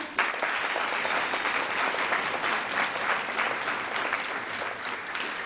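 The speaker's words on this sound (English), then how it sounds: "Let's give one big round of applause for them." Sustained applause from an audience for the musicians before a group performance, thick and even clapping that fills the whole stretch without a break.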